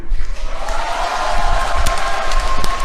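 A civic meeting audience in Seongnam claps and murmurs, a dense, loud wash of applause with scattered sharp claps and crowd noise throughout.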